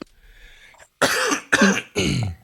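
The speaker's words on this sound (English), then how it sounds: "Now I need to cough." Three sharp coughs in quick succession, loud and close, after a brief rustle.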